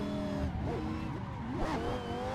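A Lamborghini drift car breaks traction in third and fourth gear on a test track, its engine droning steadily while the tires give rising and falling squeals through the middle of the clip.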